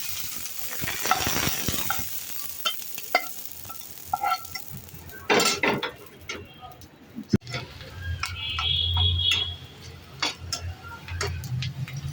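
Puti fish frying in a pan, a soft sizzle with scattered ticks and clicks of a utensil moving the pieces, close by and fairly quiet.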